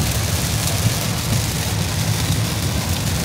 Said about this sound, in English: The rain makes it hard to see and drive